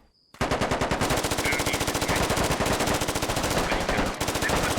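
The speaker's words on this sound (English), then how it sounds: "Old Geezer gets shot by Atomic Peach through the doorway" Rapid automatic gunfire in the tactical shooter game Squad, a dense, loud, steady burst of shots lasting several seconds after a brief quiet start.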